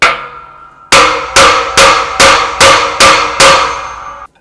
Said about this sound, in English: I'm just going to use my hammer and I'm going to give this a couple loving bonks.